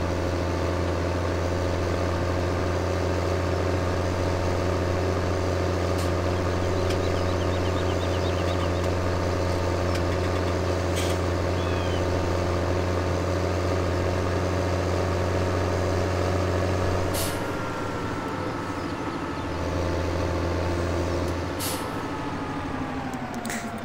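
Farming Simulator 17 vehicle engine driving on the Sandy Bay map, a loud, steady low drone that holds constant, then drops and shifts near the end with a brief hiss like an air brake.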